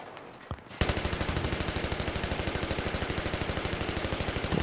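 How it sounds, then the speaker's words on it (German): A machine gun in Battlefield 3 opens up after a brief quiet start and keeps firing in one long, rapid, evenly spaced burst, loud and close, with no talking. "Ich hab gleich 100 Kugel auf den Typen geschossen und nicht gekillt."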